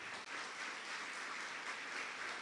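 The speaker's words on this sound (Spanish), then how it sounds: "denle un fuerte aplauso al Señor" Faint, distant applause from a church congregation during a worship service, a steady even wash of clapping with no clear individual claps and no talk.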